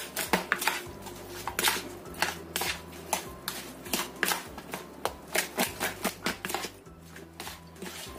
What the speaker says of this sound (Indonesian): Kita aduk sampai tercampur rata